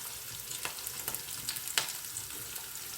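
Green chillies frying under a lid in a pan, a steady close sizzle with soft crackles and a few louder pops, no voices.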